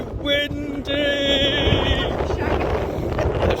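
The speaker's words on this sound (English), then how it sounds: "We're at Portland Bill and it's very windy." Strong wind buffets the microphone at Portland Bill, a loud, rough, continuous roar, with a voice speaking over it at the start.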